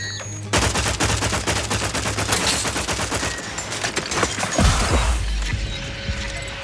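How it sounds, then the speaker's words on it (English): Rapid plasma weapon fire fills the scene in The Outer Worlds 2, a dense stream of repeated shots lasting several seconds, followed by a heavier crashing impact near the end. "Shooting me with some kind of plasma weapon."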